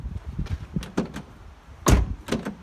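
A 2014 Mercedes Vito panel van's door is pushed shut onto its latch, a single solid metallic clunk near the end, preceded by a few lighter knocks and rattles close by.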